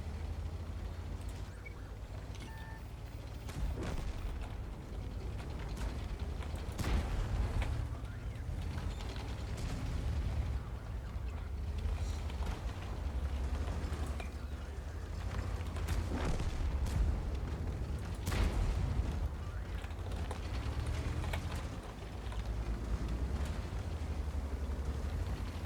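Tank artillery rumbles in a KV-1 Russian tank video game: deep low booms and mechanical creaks and ratchets continue steadily for about twenty-five seconds at moderate level, with no one talking.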